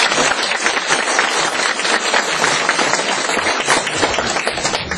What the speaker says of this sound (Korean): 우리 그분들을 위해서 우리 크게 감사의 박수를 한번 부탁드리겠습니다.